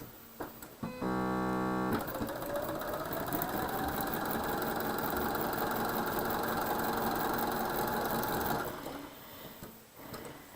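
Sewing machine stitching quilt pieces together, a steady fast mechanical whirring hum running for about seven seconds after a brief start-up, close and alone, then stopping.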